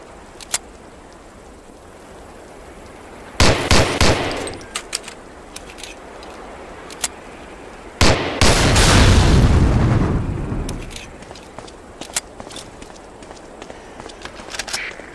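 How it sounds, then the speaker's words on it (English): A .45 pistol fires at a target on a training range in the WW2 game Medal of Honor Allied Assault, a handful of sharp, loud shots spaced irregularly, two of them trailing into longer booming echoes. "Try a couple of shots on that target with your 45."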